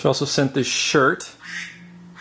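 A phone ringtone made of duck quacks goes off, loud close quacking bursts followed by a softer tone, while a person talks over it.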